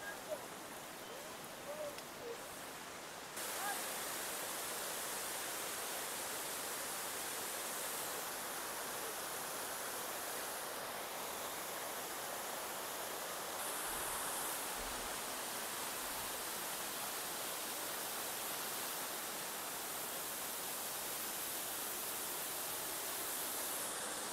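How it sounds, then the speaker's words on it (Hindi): Elephant Falls, a three-tiered waterfall in Shillong, Meghalaya, making a steady, broad rushing roar that fills the whole stretch without a break. The water sounds fairly distant and even, and its texture shifts slightly a few seconds in. "खासी लैंग्वेज में इस वाटरफॉल का नाम है काकुसाइट लाई पटेंग, जिसका मतलब है वाटरफॉल विथ थ्री लेवल्स।"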